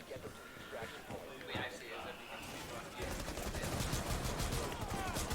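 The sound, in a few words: gunshots in Rainbow Six: Siege video game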